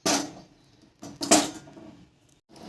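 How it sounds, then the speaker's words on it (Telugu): A cooking pot set down on a kitchen stove while sugar syrup is prepared for gulab jamun, giving a few sharp metallic clanks and scrapes in quick succession, close and fairly loud. "ఈ గిన్నె స్టవ్ పైన పెట్టుకోవాలి."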